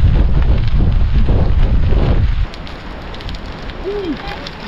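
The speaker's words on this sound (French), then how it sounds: "je suis en descente, il y a du vent et c'est dangereux" Heavy wind roaring across the microphone on a downhill gravel bike ride, loud and blustery for the first half, then dropping to a lighter steady rush with faint rolling tire noise.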